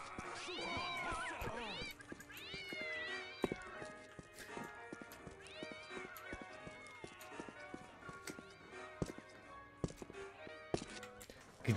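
Several cartoonish cat meows in the video game Postal 2 rise and fall among game music and clattering sound effects, with a voice talking over parts of it.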